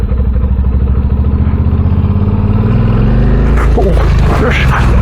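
Motorcycle on a slippery, unfamiliar muddy riverside track during winter moto-camping, the engine chugging steadily up close with loud low rumble, then rougher revving and clatter near the end as the bike slithers through mud.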